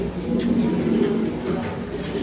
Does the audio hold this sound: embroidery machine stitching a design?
no